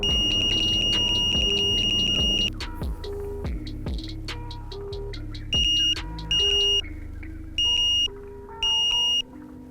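A Prologic K3 carp fishing bite alarm sounds a run of sharp electronic beeps, a few quick single tones followed by longer held bleeps in an irregular pattern as it steps through its sensitivity settings, loud and close.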